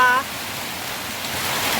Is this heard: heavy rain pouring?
yes